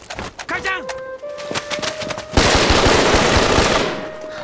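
Bursts of rapid automatic gunfire rattle through a Chinese action film scene, preceded by shouting voices and a sharp single shot, then a dense sustained volley.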